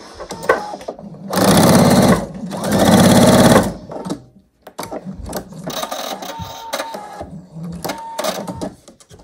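A sewing machine stitches fabric scraps for a quilt block in two loud, rapid whirring bursts of about a second each, followed by quieter fabric handling and clicks nearby.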